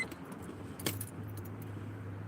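Keys jangle in a bright metallic burst, then a car engine starts and settles into a steady low idle; the car has an engine management light on and a possible catalytic converter fault.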